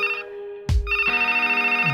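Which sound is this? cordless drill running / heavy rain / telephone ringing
telephone ringing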